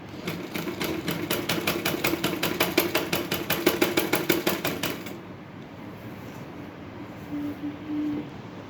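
Sewing machine stitching a blouse, a fast steady run of rapid mechanical needle clicks for about five seconds, then stopping, leaving quiet room tone with a faint hum.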